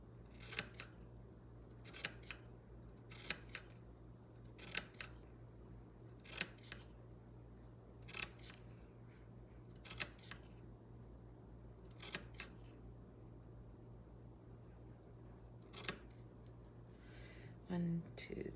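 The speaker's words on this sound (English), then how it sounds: "I'm sort of cutting and following the curve with the angle of the scissors" Scissors snip through a shirt's fabric in short, crisp cuts, about a dozen spaced a second or so apart, close and quiet over a faint steady hum.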